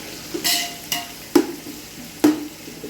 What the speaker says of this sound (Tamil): பச்சை மிளகாவும் வெங்காயமும் போட்டு நல்லா வதக்கிடணும்